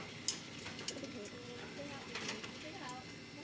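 Loft pigeons cooing softly among other bird calls, with people talking over the birds at close range throughout.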